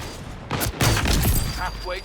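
Gunfire and kill sound effects from Splitgate 2 burst out in a quick rapid volley with a sharp electronic chirp at the end, loud and close, with a voice talking over them.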